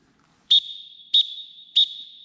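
Three short, shrill whistle blasts evenly spaced about half a second apart, each leaving a faint ringing tail, sound alone on an archery range to signal it is safe to approach the target line.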